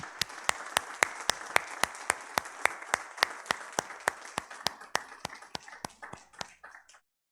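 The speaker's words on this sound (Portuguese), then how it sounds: "Vamos aplaudir o nosso Deus." A church congregation claps in unison to praise God, sharp rhythmic claps about three per second, steady and evenly spaced, then loosening and trailing off toward the end.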